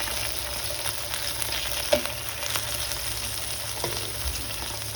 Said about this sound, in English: let that sauce cook a little bit more